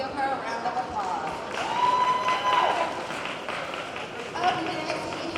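Audience applause at a runway show during museum day at the Mississippi State Fair, a steady round of clapping mixed with some crowd noise and a few voices talking over it.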